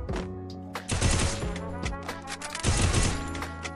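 Gunshots fire in a mobile shooter game's training mode, two rapid bursts of sharp, loud shots with brief pauses between.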